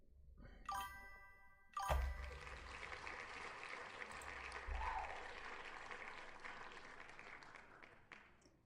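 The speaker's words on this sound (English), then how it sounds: "I really need to turn this applause off" A canned applause effect from the Russian Fishing 4 video game swells with clapping and bright chiming tinkles, a steady wash of cheering noise that surges twice and then holds before tailing off.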